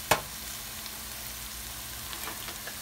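Olive oil sizzles in a frying pan for a chicken fatayer dish, a steady, close hiss after a brief sharp crackle at the start, with no voices over it.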